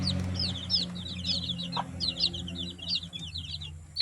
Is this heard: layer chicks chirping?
yes